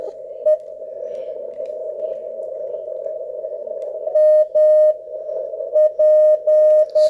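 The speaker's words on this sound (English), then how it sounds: "Some slight Morse there." Morse code tones received on an RS-978 SDR QRP transceiver tuned near 3506 on the band: a steady hiss of receiver noise, then clear repeated beeping keyed dots and dashes rising above it toward the end.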